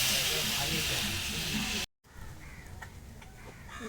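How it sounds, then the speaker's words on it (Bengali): Water poured into a hot pan of fried soya chunks and potatoes gives a loud, steady hiss of steam, then a short cut and a quieter bubbling simmer with a few light clicks. "কষানো হয়ে গেছে, এবার জল দিয়ে দেবো।"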